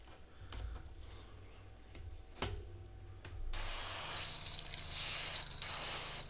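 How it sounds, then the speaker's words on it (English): Airbrush spraying paint onto a miniature Slaanesh daemon prince during a live painting session: a steady close hiss switches on partway through and runs continuously to the end, after quieter handling clicks. "now we have to be a lot more careful about our spraying"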